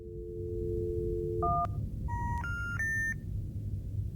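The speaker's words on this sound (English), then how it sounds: "I should be able to call Amy" Payphone keypad dialing tones in the horror video game Fear the Spotlight: a steady low tone, then a run of distinct two-pitch DTMF beeps pressed one after another, clear over a constant background hum.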